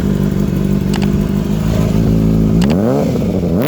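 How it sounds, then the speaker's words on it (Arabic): A Kawasaki ZX-6R motorcycle with an SC exhaust idles loudly and close, its rough clattering drone rising into a quick throttle blip near the end. "الموتوسيكل دوت فيه علبه اس سي، فعايز اسمعك صوتها كده."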